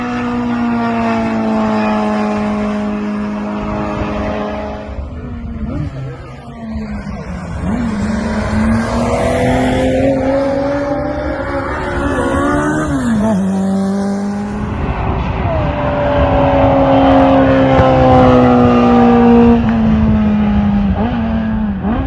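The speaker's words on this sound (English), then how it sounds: "James in his Imp at Mallory Park at some retro rides event that he went to" A Hillman Imp race car at a retro rides event at Mallory Park, its loud engine note rising and falling steadily through gear changes and revs as it laps, with no talking over it.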